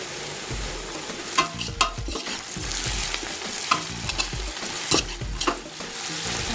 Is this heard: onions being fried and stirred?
yes